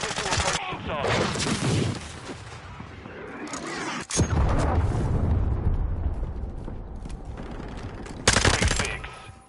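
Cruise missile strike explosions in a military video game, a dense barrage of loud booming blasts and gunfire-like crackle rolling continuously, with a sharp burst near the end.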